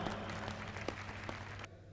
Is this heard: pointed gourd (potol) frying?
no